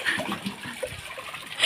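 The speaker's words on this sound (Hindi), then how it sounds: "वेदु कपड़ा पहन के कूद गया" A child in clothes and a diaper jumps into cold water outdoors, giving a soft, diffuse splash with trickling water that runs through the whole moment, moderately close and without speech.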